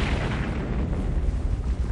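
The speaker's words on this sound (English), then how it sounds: "just after the tunnels, there are big noise, bang! The resulting sonic boom can be heard and felt for miles around" Loud low-frequency rumbling boom as a high-speed train exits a tunnel, a sustained blast of pressure noise filling the whole two seconds with no speech.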